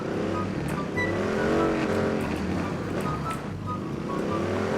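A car engine drives in the video game PUBG, with a steady, loud motor drone whose pitch rises and falls as it accelerates and continues without a break.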